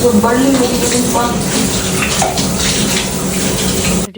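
Bath water runs steadily from a tap in a Japanese home, a continuous close splashing flow with a faint voice briefly audible early on.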